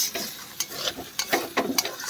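Banana flower cooks with tomatoes and garlic in a pan, heard as soft sizzling broken by about half a dozen quick scraping stirs of a spatula, quiet and close.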